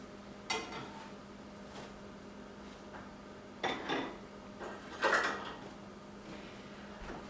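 Banana-oat pancakes being served from a hot pan onto a plate: a few scattered clinks and scrapes of utensil against pan and plate, sharp and fairly close, with quiet gaps between.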